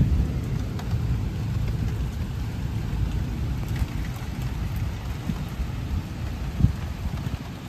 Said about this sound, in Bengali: এখানে দেখো বৃষ্টি হচ্ছে ভালোই